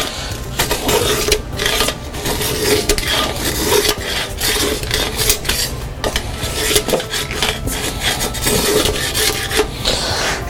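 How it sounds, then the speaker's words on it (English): A grip scraper rasps along a golf club shaft, stripping off old grip tape in steady, continuous close-up scraping strokes with no talking. "So we're just going to scrape down the shaft."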